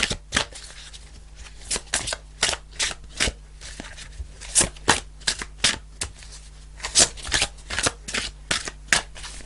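Tarot cards being shuffled by hand up close, a run of quick crisp riffling bursts repeating in a steady rhythm, with no speech.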